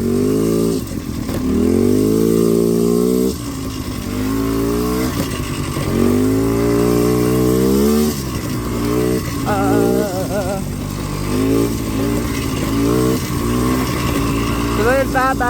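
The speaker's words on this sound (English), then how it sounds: "this four-wheeler is so like very loud" A loud, rough four-wheeler engine runs continuously with shifting revs, close by, while a person talks over it throughout.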